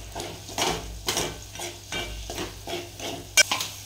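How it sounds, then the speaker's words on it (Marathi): Tomatoes and salt sautéing in a pan: a spatula scrapes and stirs in rhythmic strokes over a soft sizzle, with one sharp metallic clink near the end and no talk. "यात टाकलेले आता टोमॅटो आणि छान मस्त परतून घ्यायचे"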